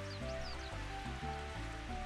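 Rain falls steadily in the N64 golf game Mario Golf on the Toad Highlands course, a soft, constant hiss under looping game music.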